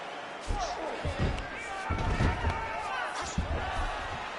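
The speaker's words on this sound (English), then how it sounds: "huge pop from the crowd as the fighters get back up to their feet" Virtual arena crowd in EA Sports UFC 5 swelling into a loud cheer as fighters return to their feet, with thuds and bursts of noise over a steady roar and a commentator talking.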